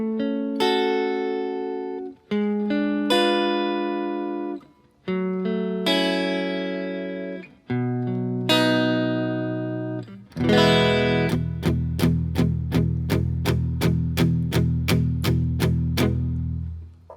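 Chords of a song strummed on guitar, several sustained chords ringing out one after another, then a rapid rhythmic strumming passage near the end, clear and alone.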